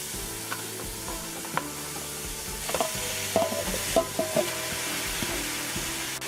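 Steady sizzling of meat frying in oil with garlic and seasonings in a pan, for chicken pastelles, with scraping and stirring clatter throughout, close up.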